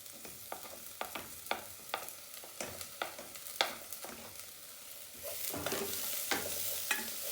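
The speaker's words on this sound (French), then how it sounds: "Donc, on mélange, on laisse cuire un petit peu." Garlic and ginger frying in a pan for a Thai coconut velouté are stirred with a series of sharp utensil scrapes and taps over a steady, close sizzle that swells toward the end; no voices.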